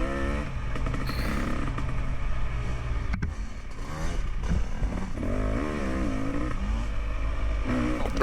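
A car accelerates hard through the gears, its engine roaring loud and continuous with rising and falling revs and a brief sharp click midway, no voices over it.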